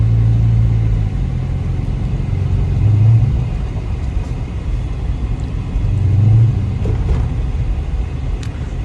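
A 2012 Dodge SRT 392 on snow tires pulls away on a snowy road, its engine rumbling low and steady from inside the cabin with two swells of throttle, no talk over it.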